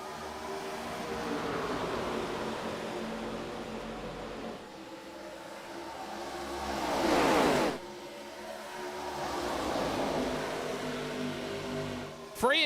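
Stock cars race at Charlotte Motor Speedway during Sunday Night Thunder, engines droning at a distance with a swelling pass-by that peaks and cuts off sharply, then another car builds in, under a faint commentator's voice.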